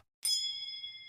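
A single bright notification bell dings once after a brief silence, ringing clear and close before slowly fading out.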